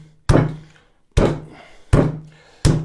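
Veal cutlet being pounded flat for Milanese cutlets, four heavy thuds spaced under a second apart, each sharp and close with a short ringing decay, no talk.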